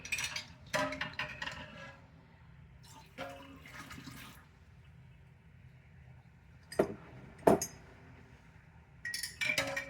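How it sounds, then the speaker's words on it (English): Glass canning jars clink and knock together in several short bursts as they are lifted out beside a tall canner while green beans are being put up, with quiet gaps between the clatters. "Get my jars out."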